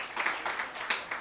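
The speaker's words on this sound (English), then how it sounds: "give a round of applause to the teachers in the room." Audience at a public talk on educator strikes gives the teachers in the room a short round of applause, heard as a few quick, fairly soft clap bursts.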